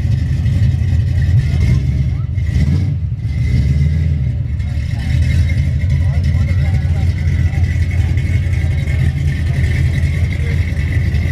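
A first-generation Ford Mustang Mach 1 with a shaker scoop runs loud and close, its engine rumbling steadily throughout, with a brief dip around the third second, while people talk over it.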